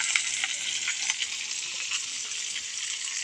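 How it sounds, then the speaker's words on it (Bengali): Pangas fish from a pond frying in oil in a pan over a clay stove, a dense, steady bright sizzle throughout with small crackles and pops, close and alone. "তো মাছটা আগে ভেজে নিই, পরে এটাকে সুন্দরভাবে ভুনা করব।"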